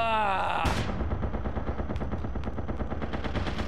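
Machine-gun fire in the MAG video game, a dense stream of rapid, loud, evenly spaced shots that starts abruptly after a brief tonal sound and continues without pause.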